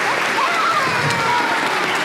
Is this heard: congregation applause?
yes